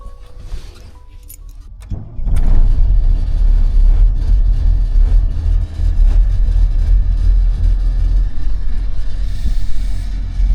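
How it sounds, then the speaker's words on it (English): A bus engine in Pecos, Texas cranks and catches at about two seconds, then runs loud and steady with a rough, uneven idle and low rumble, after quieter clunks and rattles. "So I got everything ready to get the bus moving for the first time since I landed here in Pecos."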